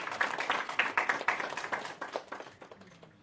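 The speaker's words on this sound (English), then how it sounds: "A round of applause, ladies and gentlemen." Audience applause at a global wealth and real estate summit in London, starting with brisk, fairly close individual claps, then thinning out and fading to a few scattered claps.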